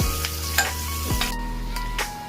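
Onions sautéing with masala in a pan for a dhaba-style Punjabi bhindi masala, with a steady close sizzle and a few sharp stirring scrapes, no talking.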